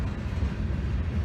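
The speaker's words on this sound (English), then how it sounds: "There's a train" A train rolls past with a loud, steady low rumble of railway wagons, heard close by outdoors during a run.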